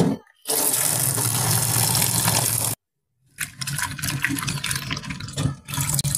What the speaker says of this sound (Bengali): এবার ভালোভাবে ধুয়ে নেব।